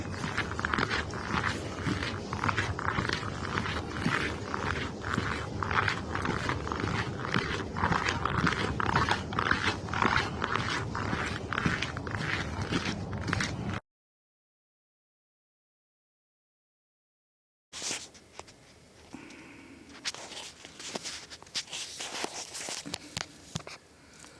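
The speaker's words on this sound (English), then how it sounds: "that is a lot of boot crunching ice" Boots crunch on ice in a quick, steady walking rhythm, close and loud, stopping into silence before quieter crunching resumes.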